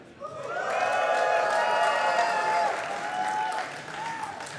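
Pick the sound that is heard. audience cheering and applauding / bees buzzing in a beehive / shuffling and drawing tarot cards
audience cheering and applauding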